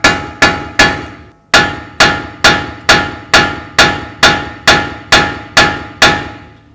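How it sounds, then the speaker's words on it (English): A steel hammer drives a punch against the front axle nut of a 2006-12 Ford Fusion to break it loose. About a dozen loud, ringing metallic blows land in a steady rhythm, close up. "Now we're going to use a punch and a hammer,"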